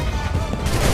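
A musket volley fired on command in Assassin's Creed III's Battle of Bunker Hill, a short dense crackling burst of many shots fired together, loud and close.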